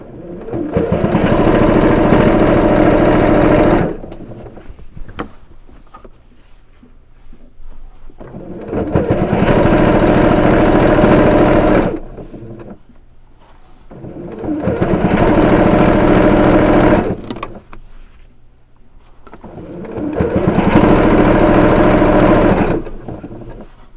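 A sewing machine runs in bursts of rapid mechanical stitching, loud and close, sewing straight binding, with several stops and quiet pauses between runs.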